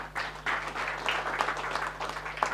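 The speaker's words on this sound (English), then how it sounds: "Applause." A pitch event audience applauds, giving a steady wash of many hands clapping together, fairly distant and unbroken from start to finish, with a constant low electrical hum beneath it.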